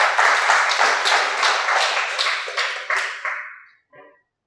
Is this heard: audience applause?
yes